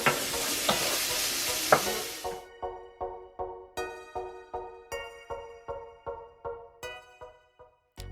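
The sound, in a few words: sliced bacon frying in a pan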